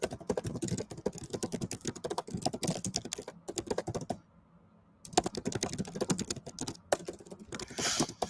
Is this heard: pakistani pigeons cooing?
no